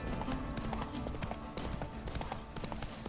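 Horse hooves clip-clop steadily in The Witcher 3, an even trotting rhythm close up over a busy, continuous game soundscape.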